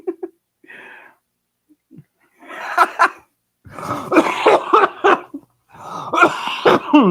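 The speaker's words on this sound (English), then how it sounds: "I hope I'm like at least somewhat covering you guys from that cough" Several harsh coughs in uneven bursts, close and loud, separated by brief quiet gaps.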